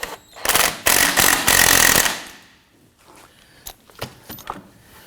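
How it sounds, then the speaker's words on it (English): Impact gun hammering a rear shock mount bolt on a 2015-2024 Nissan Murano: three loud, close bursts of rapid rattling, followed by quieter clinks and handling noises. "I'm going to use my impact gun."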